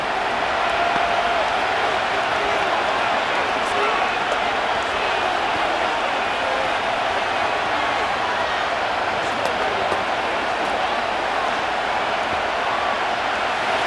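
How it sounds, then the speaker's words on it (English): Loud, steady stadium crowd roar in the Madden NFL 25 football video game, Las Vegas Raiders versus Houston Texans, a dense unbroken wash of noise filling the whole stretch with no letup. "The noise very loud from the crowd."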